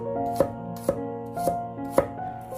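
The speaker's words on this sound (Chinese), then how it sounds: "然后剁成蒜末" Kitchen knife chopping garlic cloves on a cutting board, four sharp evenly spaced thuds at about half-second intervals, close and clear with no talking.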